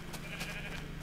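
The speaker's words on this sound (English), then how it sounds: "could you believe that other sheep answered me?" Minecraft sheep bleats, a short game sound effect that is faint and alone, with no talking over it.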